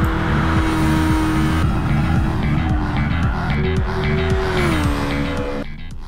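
A race car lapping Suzuka in Gran Turismo Sport, a loud continuous engine drone climbing and dropping through gear changes, with tire noise under it and no talk.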